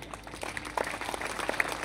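An audience at a live Hindi poetry gathering (kavi sammelan) breaks into applause: a soft, dense patter of many hands that swells slightly and holds steadily, fairly faint and distant, with no voices standing out.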